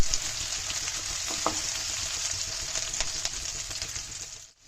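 Onions fry in a pan for an Assamese-style green chicken curry, browning with a loud, even hiss of sizzling oil and occasional stirring clinks, with no voices, then cutting off abruptly just before the end.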